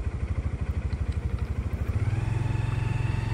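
A motorcycle engine idles steadily before a ride sets off, its low, even thumping pulse growing slightly firmer and smoother partway through, heard close and alone.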